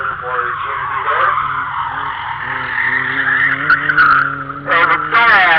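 Merlot-colored special edition Mazda Miata with a hardtop at an autocross event, its tires squealing in a long sustained skid with rising pitch, loud and up close over a steady engine drone.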